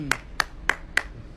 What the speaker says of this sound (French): ils applaudissent